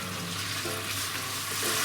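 Meat simmering in a pan with soy sauce, mirin and sugar, reducing as the alcohol cooks off, a steady, even bubbling sizzle throughout, close and constant with no voices.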